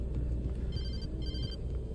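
A telephone rings in the video game Alan Wake Remastered, a brief electronic ring pulsing twice over a low rumbling ambient background.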